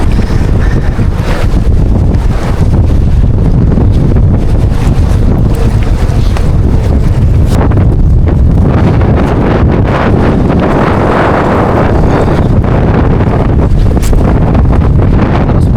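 Strong wind roars steadily across the microphone aboard a boat at sea, with surging water and wave noise underneath, loud and continuous throughout.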